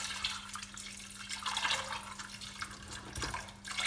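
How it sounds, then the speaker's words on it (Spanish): Water splashes and trickles into a pot of legumes being covered for a potaje, a continuous uneven pouring with small bursts, close by and alone. "lo cubrimos con agua"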